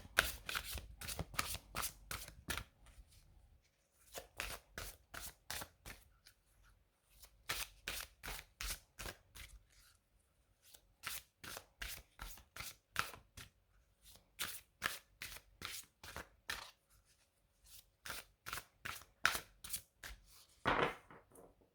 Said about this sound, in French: Et on va également tirer les cartes de The Dark Mansion Tarot, qui est donc mon tarot favori